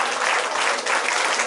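Loud, dense applause fills a Christmas Eve church service, steady and unbroken from start to finish with a crowd clapping together close by.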